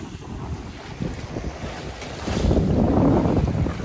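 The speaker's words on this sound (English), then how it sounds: "Sails are full of wind." Wind gusts across a sailing boat underway with full sails, rushing and buffeting close to the microphone with water sloshing beneath and swelling louder toward the end.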